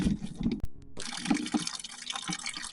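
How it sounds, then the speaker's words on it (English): Water draining from the opened oil plug of a 1944 John Deere BW tractor, a steady close splashing trickle with one brief gap before the flow resumes. "I've got the plug open, and look at this clear stuff coming out. That's water."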